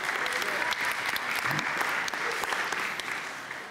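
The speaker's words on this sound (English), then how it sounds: "Is that her husband who started the clapping?" A church congregation claps during a Sunday service, a dense, sustained round of applause filling the room and slowly fading, with faint voices mixed in.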